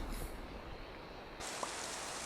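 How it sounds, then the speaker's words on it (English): Rain falls in the Minecraft video game as a steady, even hiss that changes texture partway through, with no other sounds. "Let me get rid of this rain."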